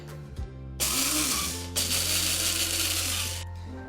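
A coffee grinder whirs in loud bursts with rice inside to clean out leftover powder. After a few short clicks, the motor runs in two spells of harsh, hissing grinding split by a brief pause, then winds down.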